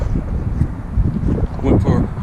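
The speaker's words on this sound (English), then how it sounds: "It's kind of windy out right now." Steady low wind rumble buffets the microphone throughout, with muffled talking underneath.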